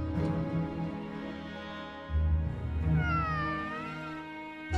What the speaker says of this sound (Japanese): あ、やっぱりあの猫だ。